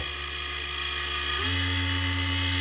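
A small Chinese universal mini lathe motor runs on 12 volts with a continuous high whine, shifting briefly to a lower, slightly louder pitch partway through.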